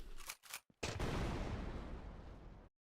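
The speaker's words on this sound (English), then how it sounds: "we got the explosion sound, numero uno done" An explosion sound effect for a video game in development: a couple of sharp bursts followed by a loud, rumbling blast that holds for about two seconds and then cuts off abruptly.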